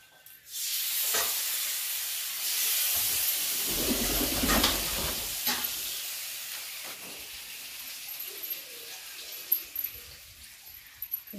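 Small fish frying in a home kitchen pan, a steady close sizzle and hiss that swells loudest midway, then settles into a softer crackle with a few sharp pops near the end.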